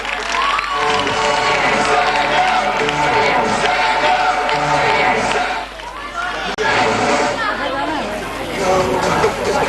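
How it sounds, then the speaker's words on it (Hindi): An audience at a school prize distribution claps and cheers, a loud, continuous wash of crowd noise and chatter that dips briefly about two-thirds of the way through, then swells again. "बहुत सारी तालियां टीचर्स के लिए और स्कूल मैनेजमेंट के लिए एक बार फिर से"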